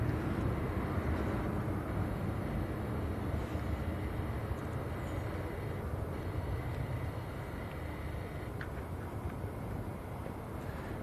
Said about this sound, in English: Here comes the Bangladesh Buyman. 787 Dreamliner from Sylhet.